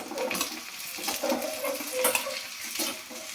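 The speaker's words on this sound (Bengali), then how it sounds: "সবকটা একসাথে তেলের মধ্যে দিয়ে দেবো, দিয়ে নাড়াচাড়া করবো।" Vegetables frying together in oil in a pan, stirred with a utensil, giving a close sizzle with repeated scraping and clinking strokes against the pan in an uneven rhythm, no talk.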